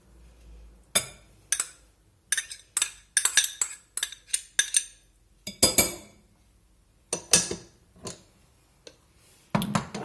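Cutlery scrapes and clinks against a bowl while rice salad with tomatoes, tuna and hard-boiled eggs is stirred together, a run of sharp, close metallic taps and rattles in irregular bursts separated by brief quiet gaps.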